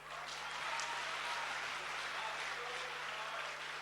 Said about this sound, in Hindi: मेरे स्वागत में दोबारा जोरदार तालियां बजाएं